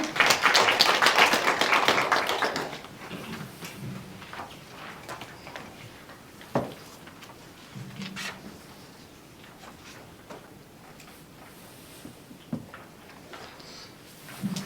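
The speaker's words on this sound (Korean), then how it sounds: "큰 박수로 환영해 주십시오." Forum audience at a 2022 Gyeonggi Province public-private governance event claps to welcome a speaker, a dense burst of applause for about three seconds that thins into scattered taps and small knocks.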